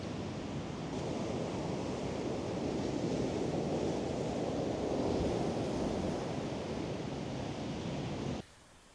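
Ocean waves at Porthchapel Beach, a continuous loud rushing surf with wind buffeting the microphone, steady throughout before cutting off abruptly near the end.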